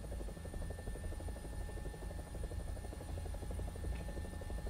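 A helicopter in the War Thunder video game drones steadily, with a constant throbbing rotor chop and engine hum, loud and unbroken throughout, with no talk over it.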